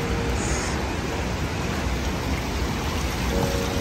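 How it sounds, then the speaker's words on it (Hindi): Steady rain hisses continuously on Dubai streets, a dense even wash of noise close by with no pauses. "वरना बारिश तो रुक नहीं रही,"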